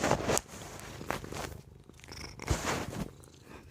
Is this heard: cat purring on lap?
yes